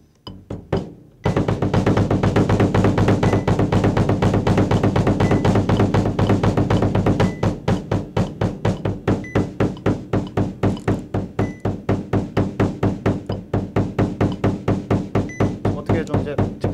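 A bass drum is struck in sixteenth notes with one foot at 60 bpm during two-bass-drum practice. Rapid, evenly spaced thumps run on continuously after a short pause at the start.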